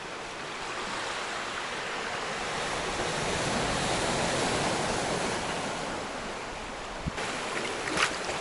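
Ocean waves wash against rocks near a noisy blowhole on Santa Cruz Island, California, in a steady roaring surge with some wind, swelling midway, with a couple of sharper splashes near the end.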